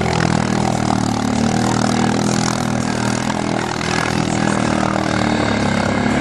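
A Yamaha 700 Grizzly ATV pushes across a lake, nearly swamped, its engine droning loud and steady throughout, with churning water noise and a brief knock at the very end.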